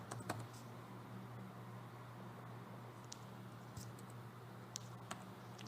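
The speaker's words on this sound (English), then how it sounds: "we can actually change the values here by just double clicking and just typing in values you want" Faint, sparse keystrokes as values are typed on a computer keyboard in simulation software, a few isolated light clicks scattered over a quiet steady hum.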